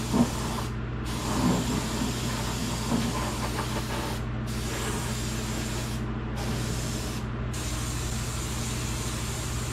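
A spray gun paints under the hood of a 1952 Chevrolet Styleline Deluxe, giving a steady, moderately quiet hiss of atomized paint broken by a few short pauses between passes.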